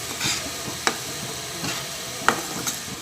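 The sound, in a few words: tomatoes, dried chillies and garlic sautéing in oil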